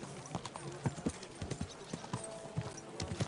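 Horse hooves clip-clopping in a steady trotting rhythm while riding in the video game Kingdom Come Deliverance 2, close and moderately soft, with no talking over them.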